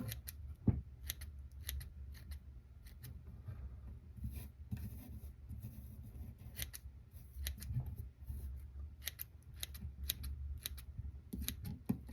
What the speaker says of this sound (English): I'm starting to angle the scissors a little bit here